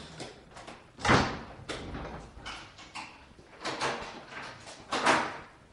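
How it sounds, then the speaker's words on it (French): An old door in a 1954 film is shut and locked, heard as a series of sharp knocks and thuds with metallic clicks, several distinct hits spread unevenly over a few seconds and no voices. "Ils ont bouclé la porte."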